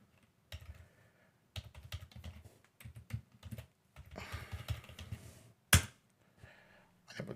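Rapid bursts of typing on a computer keyboard as a password is entered at a domain-joined workstation login, close and clear with short pauses between runs of keystrokes and one louder tap near the end.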